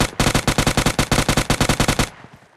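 Automatic gunfire in PUBG Mobile Lite knocks down an enemy: a loud, close, rapid burst of about twenty evenly spaced shots lasting two seconds, then an abrupt stop with a faint tail.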